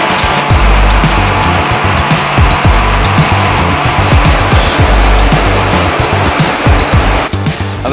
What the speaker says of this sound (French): elle patine cette voiture maintenant